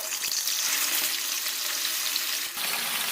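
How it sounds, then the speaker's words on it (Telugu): Chicken frying in oil in a kadai with salt added while being stirred, a steady, dense, close hiss of sizzling throughout with a brief dip near the end and no talking. "ఇప్పుడు ఇందులోకి వన్ టేబుల్ స్పూన్ సాల్ట్ వేసేసుకొని చికెన్ని మంచిగా కలుపుకుంటూ ఫ్రై చేసుకోవాలి"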